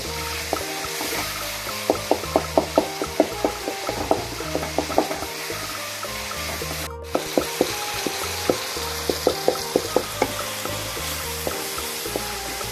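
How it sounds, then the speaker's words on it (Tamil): Tomatoes sautéing in a pan for a dried anchovy fish curry, a soft sizzle with rhythmic clicks and scrapes of a spoon stirring, pausing briefly midway before the stirring resumes. "சேர்த்து தக்காளியை நல்லா வணக்கி விட்டுடலாம்"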